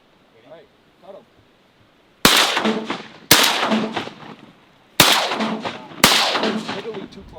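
Four loud shotgun blasts boom across open big water during a North Dakota duck hunt, each a sharp crack with a rolling tail, spaced about a second apart after faint distant sounds.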